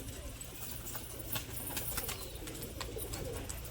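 Pigeons in cages, including a male bird, coo softly at close range over a constant background hiss, with low, murmuring calls repeating throughout.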